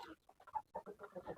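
A backyard IG breeder hen clucks in a run of short, close, moderately loud notes, with several quick clucks clustered together.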